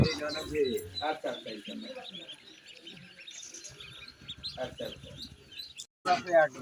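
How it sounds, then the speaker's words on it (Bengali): Khaki Campbell ducklings peep and chirp in scattered high bursts throughout, close by, while someone talks over them. "এগুলো খাকি ক্যাম্বল, অরিজিনাল খাকি ক্যাম্বল হাঁসের বাচ্চা।"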